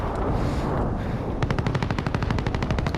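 Rapid automatic fire from the Oden rifle in a video game, a dense rattling burst of closely spaced shots that starts partway through after a brief stretch of ambient noise, loud and close.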